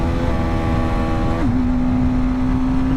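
A BMW G310GS single-cylinder motorcycle engine running at about 50 mph rises in pitch when two gears are dropped, then settles into a steady loud hum under wind noise.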